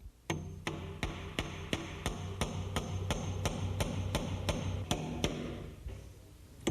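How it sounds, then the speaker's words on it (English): Finish nails driven with a hammer into shims at a door frame during installation, a steady run of about fourteen sharp, evenly spaced blows, close and distinct with no talk. "And then nail it up."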